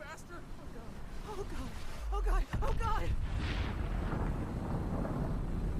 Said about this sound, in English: And then we got fucking fireworks. Like 4th of fucking July.